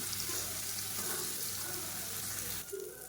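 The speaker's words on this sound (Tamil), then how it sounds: "இந்த பன்னீர் வந்து இதில் போட்டு நம்ம ஃப்ரை பண்ணி எடுத்துக்கலாம்." About 200 grams of paneer frying in hot oil gives a steady, dense sizzle that runs unbroken and fairly loud, thinning slightly near the end, with no talking.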